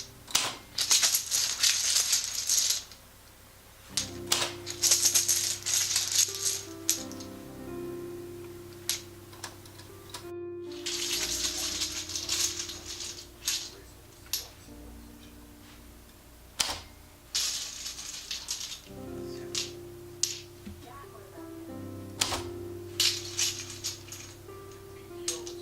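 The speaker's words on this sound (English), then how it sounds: "a set of random letters which have been generated using the typewriter and the Scrabble bag" Scrabble tiles drawn from a bag alternate with a mechanical typewriter, giving clattering key strikes in quick bursts, sharp single clacks and rattling shuffles, close and dry with no talk.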